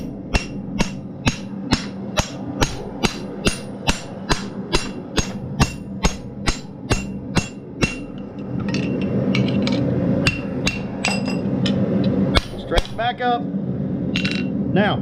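Blacksmith hammering a hot drift through steel while forging a trammel hook: about fifteen sharp, evenly spaced ringing strikes, close and loud, giving way to a dense rumbling clatter with a few scattered clanks near the end.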